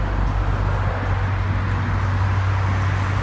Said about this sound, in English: All the cars that we're looking at now